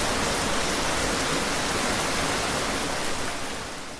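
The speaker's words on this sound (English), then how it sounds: "Then it rained and there was a flood." Steady, dense rainfall hisses evenly and fairly loud, like a heavy downpour, easing slightly toward the end with no voices over it.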